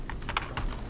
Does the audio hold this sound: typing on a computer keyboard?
yes